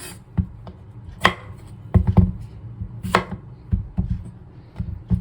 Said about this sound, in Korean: 그래서 오이는 이렇게 끝을 잘라서 준비를 일단 해 놓을게요.